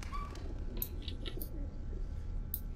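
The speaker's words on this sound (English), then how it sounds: "Is that a fucking pigeon?" A pigeon coos softly in a cyberpunk horror game setting, a few faint low murmuring calls over a quiet ambient background, with no talking.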